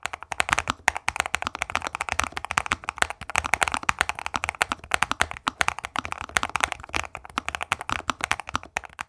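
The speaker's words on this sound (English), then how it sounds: "What I do absolutely love about this keyboard is the typing experience. It's tactile, it's buttery, it's smooth." Rapid, steady clicking keystrokes from a tactile mechanical keyboard sitting on a desk mat, typed continuously and close up with no talking.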